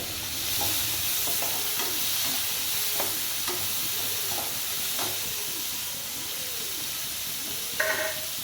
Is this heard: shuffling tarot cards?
no